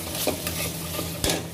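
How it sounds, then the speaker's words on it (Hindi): Pasta is stirred in a pan over a soft sizzle, with a few brief scrapes and knocks of the spoon against the pan. "और इसको थोड़ा सा हम लोग चला लेंगे।"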